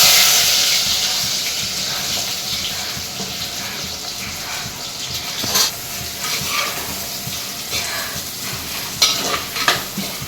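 Onions sauté in hot oil with mustard seeds and fenugreek in a home kitchen, giving a steady close sizzle and frying hiss with occasional stirring scrapes and clinks, and no talk.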